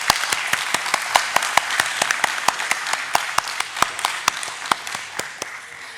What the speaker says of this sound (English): Huge round of applause for all our dignitaries.